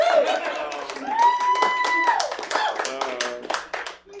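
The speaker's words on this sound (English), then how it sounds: "You don't have to clap for me or anything" Scattered clapping from a comedy show audience, light and intermittent beneath someone talking continuously.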